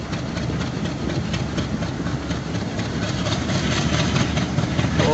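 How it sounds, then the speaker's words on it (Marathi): Diesel locomotive engine of the Parbhani–Nanded passenger train rumbling steadily and loudly nearby, a continuous low throbbing drone with no talk. "वाव, इंजिनचा आवाज."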